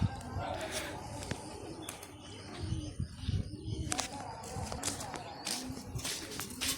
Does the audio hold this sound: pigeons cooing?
yes